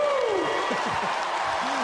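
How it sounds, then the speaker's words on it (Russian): Audience applause at a boxing event in a hall, a steady broadband clatter of clapping with a voice calling out over it throughout. "Аплодисменты!"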